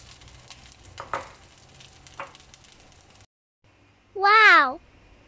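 Olive fried rice with vegetables and spinach sizzles faintly and steadily in a pan, with a few soft stirring knocks. After a brief silence, a loud, high, wavering meow-like cry follows.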